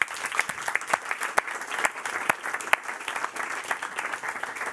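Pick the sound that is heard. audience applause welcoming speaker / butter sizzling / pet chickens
audience applause welcoming speaker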